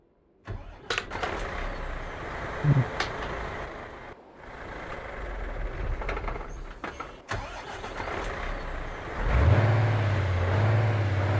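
A modded Iveco truck engine in Euro Truck Simulator 2 with a free 725 HP engine and sound mod, cranking and catching, then a deep idle rumble that swells into a loud low drone near the end.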